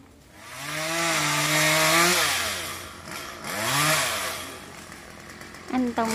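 A chainsaw revs up loud and close, cutting a small coconut tree for a couple of seconds, dips, then roars again before easing off, with voices briefly at the end.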